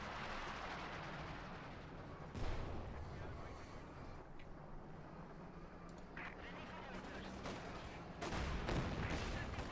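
Tank cannon shots in Company of Heroes 2, a World War II strategy game match with T-34s and a Panther, booming as two heavy blasts amid continuous battle rumble and game sound, with a voice talking over it.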